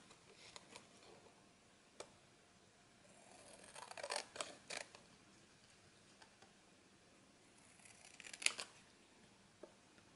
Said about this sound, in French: vous prenez les ciseaux et vous découpez le contour de votre photo